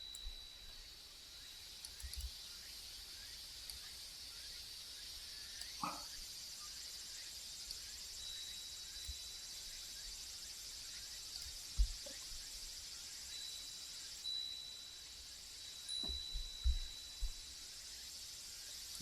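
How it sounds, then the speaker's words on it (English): Cicadas shrill in a thin, continuous, high-pitched drone through a quiet traditional house setting, faint and steady throughout, broken by a few soft knocks and brief low thumps. "Cicada shrilling 120 minutes. Traditional house atmosphere cicada voice wind chimes."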